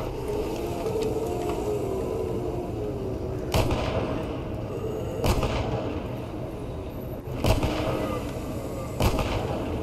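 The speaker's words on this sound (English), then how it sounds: "I think we're just gonna use that pistol" Pistol shots in the video game Stalker Anomaly ring out in a sparse series of four loud, sharp cracks a couple of seconds apart over a low rumbling ambience, with no talking.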